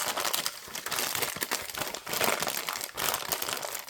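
Baking paper crinkles and crumples in steady handling, a dense close-up stream of crackling rustles with brief pauses, heard alone without talk.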